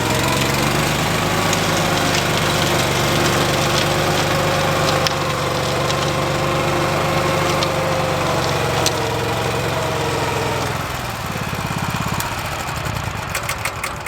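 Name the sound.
lawn mower engine running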